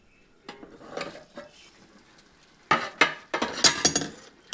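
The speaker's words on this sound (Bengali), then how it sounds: "দেখুন এবারে ঢাকাটা খুলে দিচ্ছি।" A metal lid is lifted off a pot of chicken bahar with coriander, giving a few sharp clattering scrapes and knocks close by after a quiet start, with no talk.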